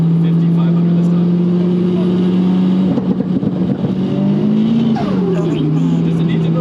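Nissan S15 with a big turbo idling high and revving on anti-lag settings, a loud steady engine drone with pops and crackles and a rise and fall in pitch, with people talking nearby.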